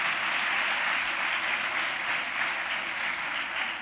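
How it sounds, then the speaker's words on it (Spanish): Studio audience on a Spanish talk show clapping in a sustained, even burst of applause with a few sharper claps standing out, no speech over it. "¿Cómo te has ganado ese aplausillo?"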